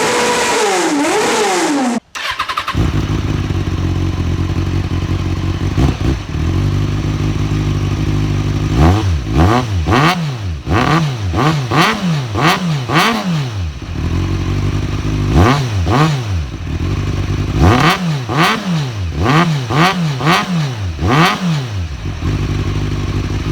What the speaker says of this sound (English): against now with an actual good motorcycle exhaust. So let's do the before and after.